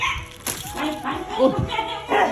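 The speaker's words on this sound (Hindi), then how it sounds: "अंदर से वो भी भौंक रहा है।" A dog gives short yips and whimpering barks up close, mixed with people talking nearby.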